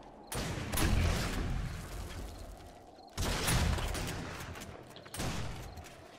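Three heavy shotgun blasts in 7 Days To Die during a zombie horde night, each a booming crack followed by a long rolling decay, spaced a couple of seconds apart with no talking.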